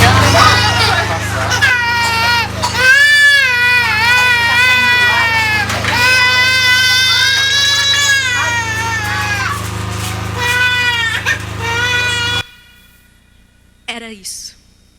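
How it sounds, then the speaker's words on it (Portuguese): Recording of several children and babies crying and wailing together, loud and sustained with overlapping high sobbing voices, cutting off abruptly near the end before a brief faint cry. "E o choro das crianças é que mexe muito com a gente"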